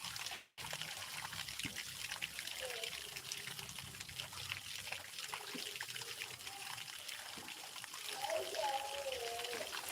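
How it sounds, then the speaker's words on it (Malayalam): Water hisses and sprays continuously from a burst pipe, with people talking over the rushing spray. "പൈപ്പ് ചീറ്റിപ്പോകുന്നു"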